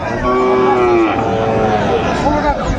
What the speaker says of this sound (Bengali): বেলাল ভাই কয়টা ষাঁড় বাচ্চা?